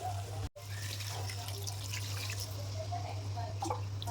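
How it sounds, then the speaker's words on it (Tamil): Water splashes into chicken curry browning in a pan, a steady close pour over a low kitchen hum, with a brief cut near the start. "சிக்கன் போட்டு நல்லா கலர்னதுக்கப்புறம் நம்ம அதில் வாட்டர் ஆட் பண்ணிக்கலாம்."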